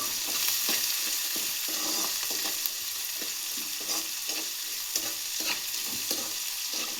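Onions and garlic sauté in a pan with a continuous dense sizzle, punctuated by soft scraping stirs at a fairly regular pace.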